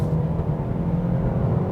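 A 2022 Kia K5 with a 2-liter gasoline engine accelerates in sports mode, giving a steady low engine rumble and whir heard from inside the cabin, continuous and moderately loud with no talking.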